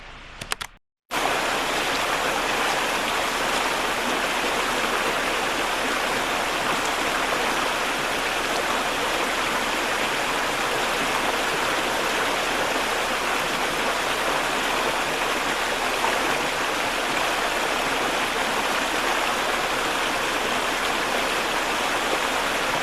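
Sullivan Creek flowing just outside a campsite, a steady, full rushing of water that stays loud and even throughout, with no voices.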